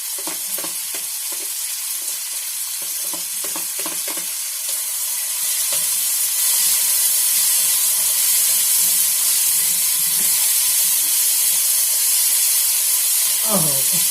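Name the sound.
green beans frying and sizzling in oil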